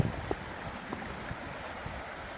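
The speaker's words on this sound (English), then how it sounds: "the creek is up very high." A flooded creek running high rushes and gurgles in a steady broadband wash, with a few faint splashes and knocks scattered through it.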